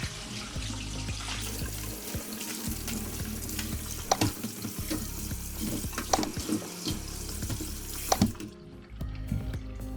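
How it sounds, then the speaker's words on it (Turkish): Tap water runs steadily into a kitchen sink while squid are washed and drained, a continuous splashing rush broken by clatters and handling knocks and no talk. "görüldüğü üzere yıkadık, süzdük ve şimdi bir sonraki aşama için kalamarlarımız hazır"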